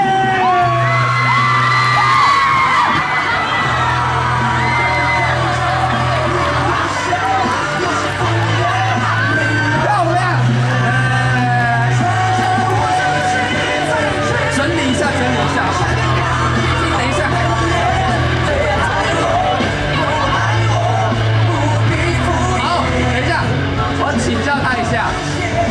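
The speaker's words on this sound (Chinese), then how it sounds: "大家掌声鼓励！" An audience at a book launch event cheers, whoops and yells in a sustained, loud crowd roar, while voices speak over it and music plays.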